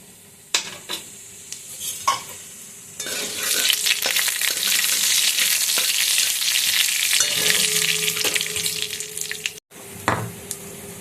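Dried chilli, panch phoron and whole cumin hit hot oil in a pan, starting with a few crackles and then bursting into a loud, steady sizzle with pops and light clinks of a spoon stirring, before it briefly cuts off.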